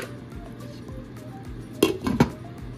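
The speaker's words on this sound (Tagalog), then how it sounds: "Tatakpan ulit natin." A metal lid set onto a pot of beef bulalo soup, two quick clanks and clinks near the end over a low simmering background.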